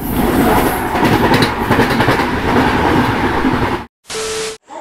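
Ernakulam Duronto Express train at Ernakulam railway station, a loud continuous rolling rumble with clattering wheels that cuts off abruptly near the end, followed by brief separate bursts of noise.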